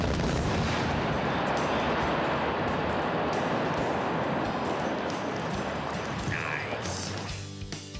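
A mining blast set off by an Orica electronic blasting system roars as a long, loud rumbling detonation that carries for several seconds and then fades.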